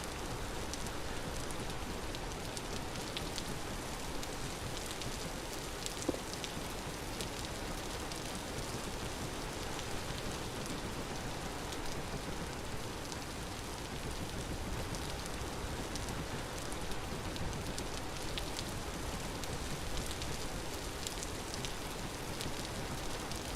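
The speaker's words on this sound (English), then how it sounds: "Get out of the rain." Steady, even rainfall in the video game Vintage Story, a continuous soft hiss of drops with no change in intensity and no voices.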